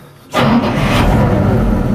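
A BRDM armoured vehicle engine, switched on with an ignition toggle and button, cranks and catches after a brief quiet moment, then settles into a loud, steady, close-up rumbling idle.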